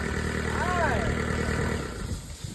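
A Kubota V1505 four-cylinder diesel engine runs steadily and loud close by, a continuous low drone with someone talking over it.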